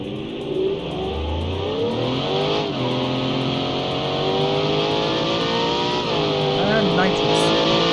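A custom-built car with 500-kilowatt nitrous, driven in the video game BeamNG, gives a loud, continuous engine roar. It revs and climbs in pitch through repeated gear changes, close and dominant throughout.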